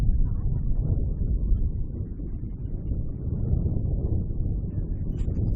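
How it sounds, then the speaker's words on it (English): Strong evening wind at an outdoor football ground, before a women's league match between Adelaide City and Flinders United, buffets the microphone as a constant low rumbling roar for the whole stretch, with no voices. "a windy evening, to say the least. You can probably hear it through your speakers or headphones"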